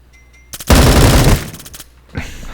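Gunfire in the Bullet Force video game: a loud, rapid automatic burst lasting under a second, followed by a few scattered shots and a fainter later volley, with no talk.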